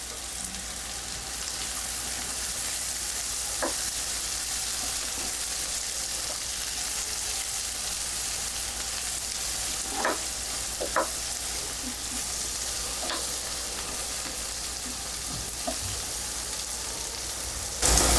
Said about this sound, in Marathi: आणि तीही बटरवर छान परतून घ्यायची